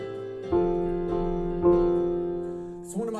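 Piano pattern with a rhythmic left hand, chords struck at steady intervals and left to ring and decay, played alone and close.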